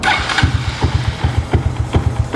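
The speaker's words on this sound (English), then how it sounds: "this is my 2023 Honda Grom with an akrapovic exhaust from my R6" A 2023 Honda Grom motorcycle fitted with an Akrapovic exhaust taken from a Yamaha R6 turns over and idles, giving a close, rough, pulsing low thump with regular uneven beats.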